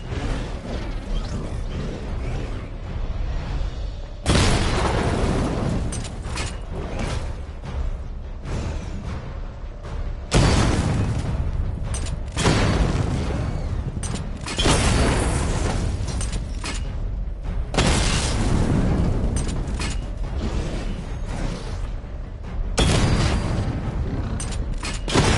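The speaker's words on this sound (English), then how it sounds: "activate missile barrage. Missile barrage level 1 ready." The Batmobile in Batman Arkham Knight fires missile barrages in repeated loud bursts of explosions and mechanical whooshes, several salvos a few seconds apart, each followed by quieter rumbling.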